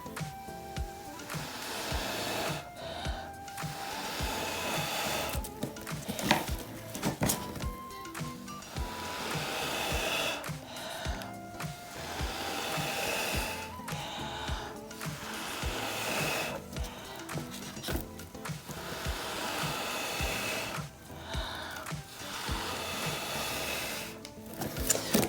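Air blown in repeated bursts across acrylic pour paint on a canvas, a steady breathy rushing hiss recurring throughout with brief pauses.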